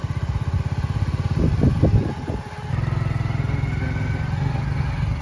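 A motorcycle out in a field chugs close by at a steady idle, broken by a short burst of clattering as it is kicked or revved, then settles back into an even running thump.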